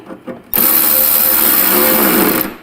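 An electric driver tightens the tether screws on a motorcycle saddlebag for a Softail, a close, loud, continuous whir lasting about two seconds after a couple of faint handling knocks.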